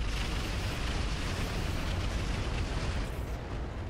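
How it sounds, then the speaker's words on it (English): Salvo of Artemis-guided missiles launching in the Roguetech mech game, a dense continuous roaring rumble with heavy low-end boom that holds steady throughout. "we are gonna fire the Artemis"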